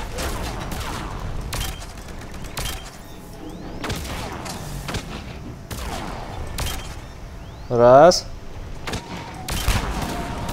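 Repeated sharp pistol shots in Mass Effect 3, fired one at a time with short gaps, plus a louder burst of sound near the end; a voice speaks briefly.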